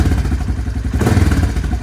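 Yamaha Kodiak 400 ATV from the 1990s idling after a carburetor throttle adjustment, its engine putting out a close, loud, even low-pitched putter with a light mechanical clatter, steady throughout with no talking.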